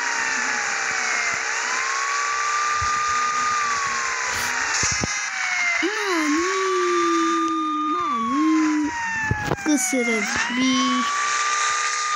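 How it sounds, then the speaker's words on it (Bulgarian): A police car siren in a video game wails with rising and falling sweeping tones, alternating pitch patterns, loud and continuous over engine-like hiss. "Пускаме сирената, бате, пускаме сирената!"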